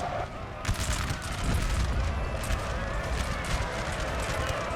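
Musket volleys from infantry in Napoleon Total War, set against cavalry: a dense, crackling rattle of many shots over a low battlefield rumble, fairly faint and sustained rather than one sharp volley.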